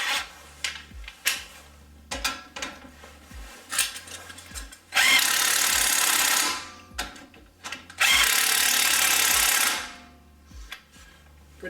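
A socket ratchet clicks in quick repeated strokes while tightening the suspension top mounts on a Chevy Cruze, with two longer whirring bursts that sound like a power tool, all close up and without talk.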